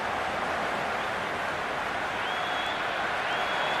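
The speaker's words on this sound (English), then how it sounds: "It's almost palpable, the excitement emanating from this crowd at the moment." A stadium crowd in the cricket video game Cricket 22 keeps up a dense, loud, unbroken roar of cheering and applause, with whistles rising faintly above it.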